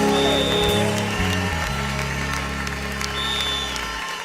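Congregation clapping during a church celebration service, steady applause running under sustained music with held keyboard notes, fairly loud and continuous throughout.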